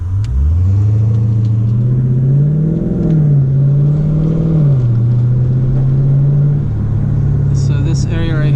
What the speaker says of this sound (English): So now we're gonna pull up to an area where we can go ahead and do a little launch.